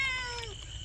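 A cat gives a single short meow with a falling pitch, close and clear, followed by quiet background with no talking.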